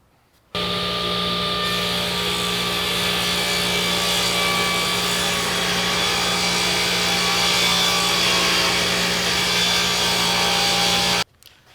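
A saw cuts steadily through wood, separating the mounting piece from a wooden floating shelf, one continuous close, loud sawing run of about ten seconds with no talk.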